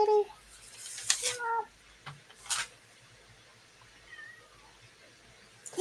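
A house cat meows several times indoors, short high calls spaced a second or more apart, fairly faint and close, with quiet room noise between.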